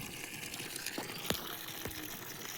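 Water gushes steadily from a solar-powered pump outlet, a continuous close rushing splash with a few sharper spurts.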